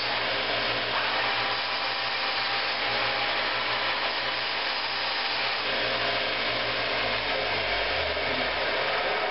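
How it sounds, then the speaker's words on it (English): A steady, continuous abrasive whir of a belt sander grinding the end of a rod, loud and unbroken throughout with no voices. "Hold the rod up against belt sanders like this, and as you're sanding, bring the drill towards you."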